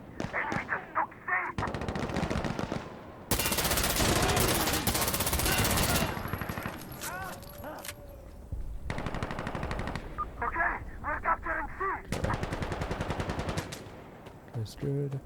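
Gunfire in the video game Insurgency: Sandstorm, loud sustained automatic bursts and scattered shots recurring across the scene, mixed with a player talking.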